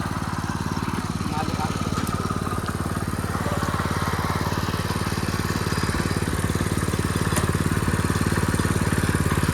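Engine of a farm vehicle running steadily with a rapid, even chugging beat, loud and close, after being put into gear for sowing in a field.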